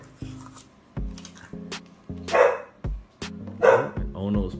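A dog barks several times in quick, uneven bursts, close by, with voices talking around the barks.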